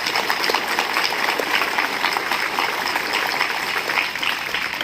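Steady, dense applause from an assembled audience greets NCC cadets after their parade display at an Independence Day event, holding at an even level throughout with no voices over it.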